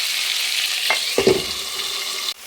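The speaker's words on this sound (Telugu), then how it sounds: "సో ఇవన్నీ కూడా బాగా వేయించుకోవాలి మనం సాల్ట్ వేసినాం కాబట్టి తొందరగా ఈ అన్నీ బాగా వేగిపోతాయి" Okra frying in a pan with salt and tomatoes, a steady broadband sizzle with a few brief clatters of stirring near the middle, close and moderately loud, with no voices.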